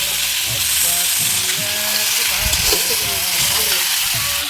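Onions and duck meat frying in a pan, a loud continuous sizzle and hiss with stirring scrapes, close by, with a voice talking faintly underneath.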